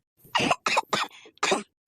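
A burst of several harsh, close coughs in quick succession, with short pauses between them, loud and alone.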